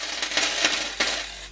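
Coins are handled and dropped together in a few quick metallic clinks and jingles, close and fairly quiet, in three or four short bursts over a second and a half.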